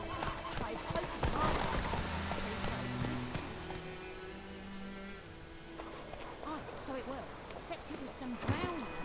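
Horse hooves clip-clopping in The Witcher 3, a steady rhythmic trot near the listener, joined briefly by a whinny, with game music and voices talking over it.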